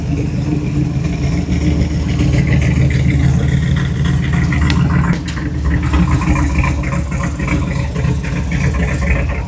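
A 1948 GMC truck on a test drive, its engine rumbling steadily from inside the cab with road noise and rattles, loud and continuous, with a brief dip midway.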